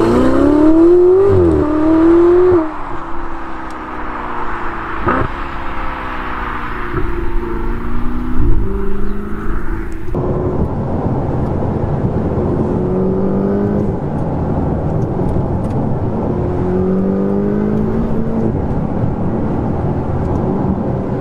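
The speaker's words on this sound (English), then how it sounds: "I'm falling in love with the turbo sound" Ferrari turbocharged supercar passing at speed, a loud engine note rising and falling through gear changes before fading into a sustained roar of traffic and crowd noise.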